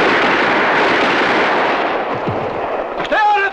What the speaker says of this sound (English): Direct fire and volleys.